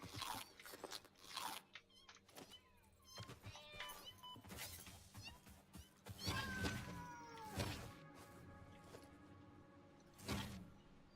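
A cat meows several times, with strained, yowling cries close by, a brief crunching sound and a voice briefly exclaiming over it.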